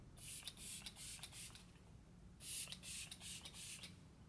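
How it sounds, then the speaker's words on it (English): Morphe Luminous Setting Spray is misted onto the face in two quick runs of short hissing pumps, close and fairly loud, with no talking. "I'm gonna go in with the Morphe Luminous Setting Spray and just apply this here on the outsides"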